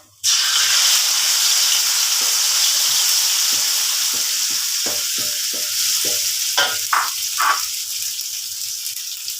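Loud, steady sizzle of southern Thai curry paste stir-fried with chicken in a hot pan, close up, with repeated stirring scrapes through the hiss.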